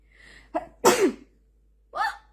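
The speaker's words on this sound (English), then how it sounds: "I'm gonna sneeze." A single close, sharp sneeze bursts out after a short intake of breath, followed by a brief exhaled sound in an otherwise quiet room.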